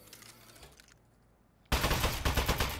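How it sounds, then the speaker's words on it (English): Turret gunfire in the video game Aperture Desk Job erupts suddenly after a quiet stretch, a loud, dense rapid burst of automatic shots that continues to the end. "Shooting."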